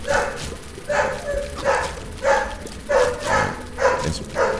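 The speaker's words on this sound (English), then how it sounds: "my dog just needs to shut her puppy whore mouth when Billy Mays is talking" A pet dog barks repeatedly, about seven loud, evenly spaced barks close to the microphone, with no talking over them.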